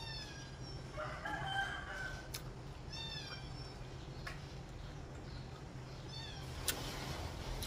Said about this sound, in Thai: เสียงแมวเลยพี่น้อง